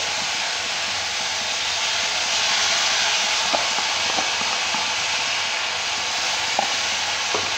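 Onion, ginger and garlic paste fries in a pan with a steady, loud broadband sizzle throughout, broken by a few faint clicks of stirring, with no voices.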